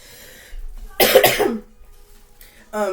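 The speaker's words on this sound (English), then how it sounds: "I got a little cough." One close, harsh cough bursts out on its own, followed by quiet and a brief bit of vocal sound at the end.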